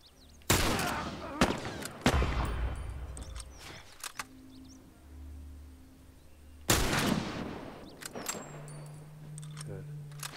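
Rifle shots in The Last of Us Part 1 crack out as a few sharp, loud bursts separated by pauses, each with a ringing tail, while a voice talks in between.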